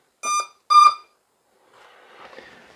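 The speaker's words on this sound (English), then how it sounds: "And the ESCs have started beeping" Two short, clear electronic beeps from the ESCs on an ATOMRC Beluga RC plane, evenly spaced and close, followed by a faint, soft rustle with no talking.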